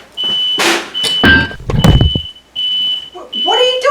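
A high electronic alarm tone sounds in repeated bursts, broken by a loud clatter and rustling, with brief voices near the end.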